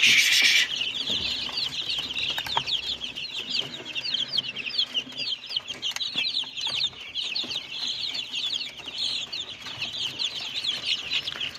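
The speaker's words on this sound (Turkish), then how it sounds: "Gördüğünüz gibi civcivlerimiz." Dense, high-pitched cheeping from many Australorp chicks in a brooder, steady and continuous throughout, with a brief louder burst at the start.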